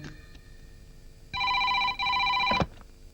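A telephone rings after a redial in a comedy film scene: two loud, bright electronic ring bursts in quick succession over a quiet room background, with no talking.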